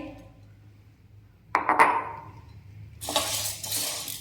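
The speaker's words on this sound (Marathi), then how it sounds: "मी एका कढाईमध्ये साबुदाणा दोन ते तीन मिनिट भाजून घेत आहे" Dry sabudana (sago pearls) roasting in a kadhai, with a quiet start giving way to a sudden burst of rattling and scraping, then a louder, sustained hissy rattle near the end.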